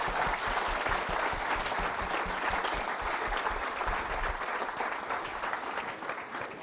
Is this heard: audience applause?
yes